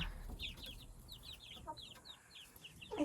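Baby chicks peep and cluck in quick, high, scattered chirps, close and fairly soft, with no voices over them.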